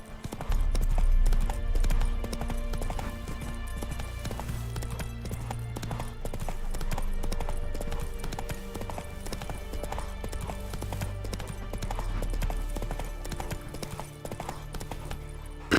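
The horse Roach gallops across terrain in the video game The Witcher 3, its hooves clip-clopping in a fast, steady rhythm over a low game soundscape, with no voices.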